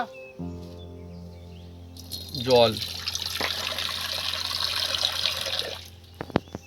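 Water poured into a wok of fresh green peas and flattened rice gives a short burst of splashing, then a steady hissing sizzle that runs on for several seconds before fading out.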